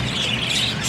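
Pet ino mutation birds squawk and chirp continuously at close range, a dense bright chatter filling the short moment with no pauses.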